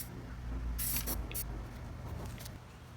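Spray paint applied to patio furniture during a restoration, with a few short hissing bursts from the can, close and fairly quiet, and no talking.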